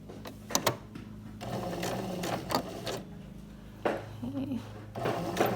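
Sewing machine running in short bursts while backstitching a mock fly zipper, the steady mechanical whir stopping and restarting several times, with quiet talk in between.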